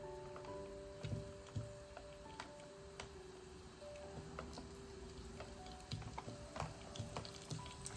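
Sausages added to a pan with browned garlic fry quietly, a faint steady sizzle broken by scattered ticks, pops and occasional stirring clinks.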